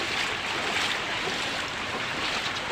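Loud, steady rushing of a flooded river spilling over its banks after monsoon rains, a dense broadband roar of turbulent water with no voices.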